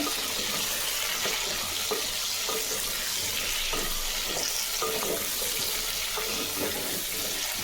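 Cut drumstick pieces sauté in hot oil for sambar, producing a loud, continuous hissing sizzle with faint crackles throughout and no talking.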